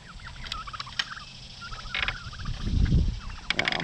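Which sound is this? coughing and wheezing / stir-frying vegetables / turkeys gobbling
turkeys gobbling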